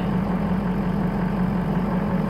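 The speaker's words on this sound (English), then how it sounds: "And listen to that engine." A Ford car engine idles steadily at close range, a smooth continuous low hum with an even, unbroken rhythm and no talking over it.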